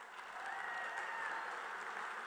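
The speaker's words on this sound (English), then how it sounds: "Give your state officers a round of applause." Faint, steady applause from a crowd at a SkillsUSA North Carolina opening ceremony for state officers, a distant, even wash of clapping with no break.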